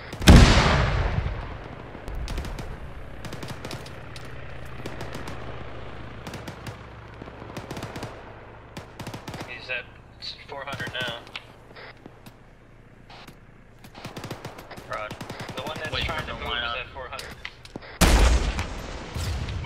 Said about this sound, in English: Gunshots to the west.